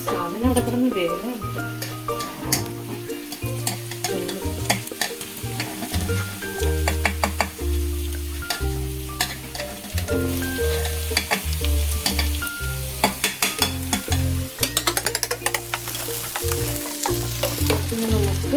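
Sliced onions crackle and sizzle in oil in a pan for chicken mandi, a steady close frying hiss stirred now and then, running beneath tonal background music.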